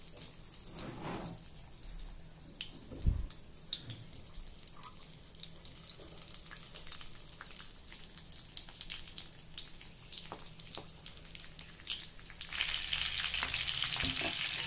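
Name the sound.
stuffed green chilies frying in hot oil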